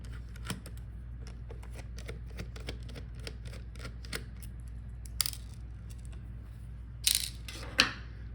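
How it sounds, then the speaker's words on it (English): Small screws come out of the hinge cover of a Dell Inspiron 3501 laptop, giving faint, sparse ticking clicks from a screwdriver. A couple of brighter metallic clinks sound near the end, in an otherwise quiet room. "so let's unscrew it"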